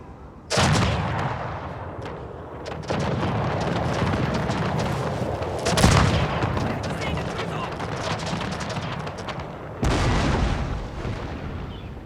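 Musket volleys in a Pike & Shot Total War multiplayer battle, with loud crackling gunfire bursting in several heavy waves and a dense rolling din of battle between them, close and continuous.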